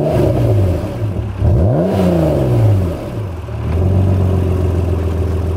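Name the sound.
2005 Acura NSX NA2 accelerating, 290 horsepower engine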